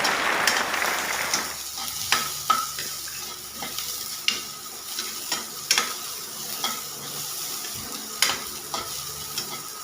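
Ginger and aromatics frying in a pan with a steady sizzle, broken by repeated sharp scrapes and knocks of a spatula being stirred through, close and clear.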